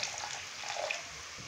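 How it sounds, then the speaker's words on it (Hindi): A small splash of water, two to three tablespoons, pours into beef liver masala with spices, a brief soft trickling hiss close by, with no talk. "थोड़ा सा पानी डालेंगे 2 से 3 खाने के चम्मच।"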